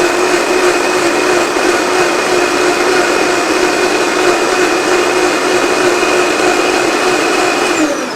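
A kitchen blender runs at full speed pureeing Sungold tomatoes, a loud constant high whine with steady tonal hum that drops slightly at the very end, with no voices.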